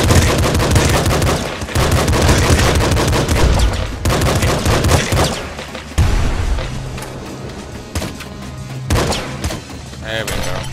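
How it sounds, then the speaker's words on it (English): Pistol fire from the video game Nuclear Throne crackles in rapid, loud bursts of shots, broken by brief pauses and mixed with game sound effects. "He starts with a pistol which has a high rate of fire."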